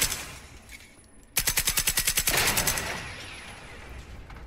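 Rapid automatic gunfire in the video game Generation Zero, a close, loud burst of about a dozen evenly spaced shots against robots, then a fading reverberant tail.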